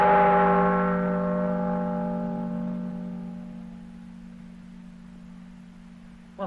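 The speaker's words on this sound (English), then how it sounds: "that must be the bell of the church of San Stefan" A single deep church bell toll at night, from the Mario Bava horror film Baron Blood, rings out loud and clear, then hums away in a long, slowly fading resonance.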